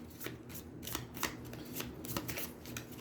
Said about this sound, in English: And then shuffle her discard into the deck.